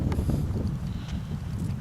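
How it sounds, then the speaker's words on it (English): Steady low wind rumble buffeting the microphone, a continuous blustery roar with no voices. "It is still windy, but let's persevere"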